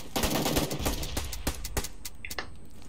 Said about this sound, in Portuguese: Ele tá dando tiro, pô?